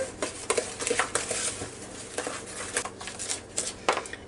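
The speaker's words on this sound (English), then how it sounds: "a cup of sugar, and we're just going to mix that together" A spoon scrapes and clinks against a bowl as flour and sugar are stirred together for a pineapple cobbler, giving an irregular run of light taps and rattles close by with no voices.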